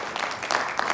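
Audience applause at a Richmond, Virginia city council formal meeting, a dense spread of many hands clapping together, steady and moderately loud from start to finish with no speech over it.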